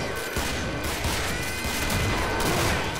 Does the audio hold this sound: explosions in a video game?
yes